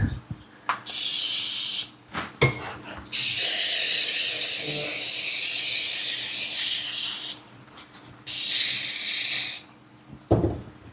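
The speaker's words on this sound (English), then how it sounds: "I'll go ahead and spray it." Several long hissing bursts from a spray bottle misting bread dough, each lasting a few seconds, with short pauses and faint handling noises between them.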